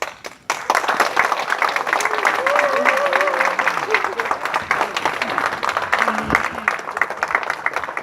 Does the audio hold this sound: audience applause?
yes